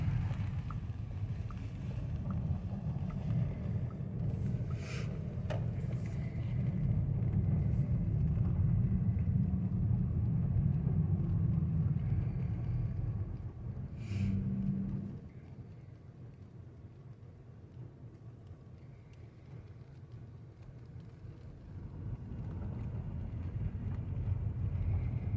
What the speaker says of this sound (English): Driving through the city in this Corona times